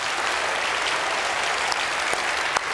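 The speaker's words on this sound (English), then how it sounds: "go ahead and applaud if this is not for you" A church congregation applauds throughout a Christmas service, a dense, steady wash of clapping from a large indoor crowd with no voices standing out.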